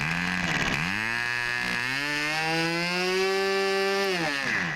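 An MFA Yamamoto model engine is run up to high throttle, its buzzing, harmonic-rich whine climbing in pitch, holding a loud, steady high note, then dipping briefly before rising again, close and alone.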